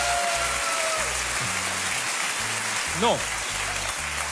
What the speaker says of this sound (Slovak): Váš potlesk.